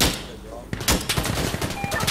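Gunfire in the tactical shooter Insurgency: a quiet lead-in, then loud sharp shots and rapid automatic bursts crackling close by, with a faint voice underneath.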